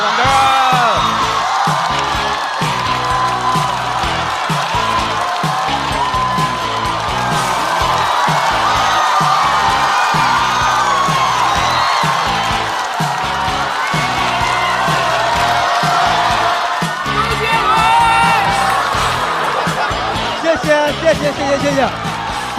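A stand-up comedy audience cheers, whoops and applauds a comedian's entrance, a loud, dense, sustained crowd roar with yells and clapping that fills the room, with voices shouting throughout.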